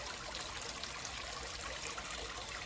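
Water trickles softly in a garden pond water feature, a quiet, continuous babbling flow with no voices, heard at a gentle level throughout.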